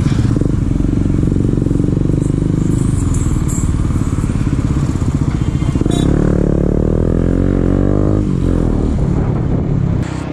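A KTM Duke 250 motorcycle with a 249 cc single-cylinder engine starts up and runs, idling steadily with a close, loud, throbbing putter, then briefly rising in revs and settling again.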